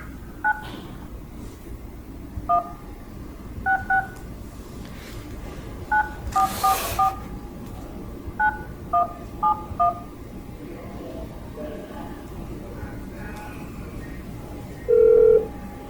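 Telephone keypad tones dial into a Zoom meeting, a run of short beeps in uneven groups over a quiet room hum, ending with one longer tone.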